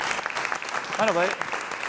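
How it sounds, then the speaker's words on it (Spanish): Studio audience applause on a Spanish television show, a steady dense patter of clapping filling the short stretch, with a brief spoken line rising over it partway through. "Un aplauso para Darío"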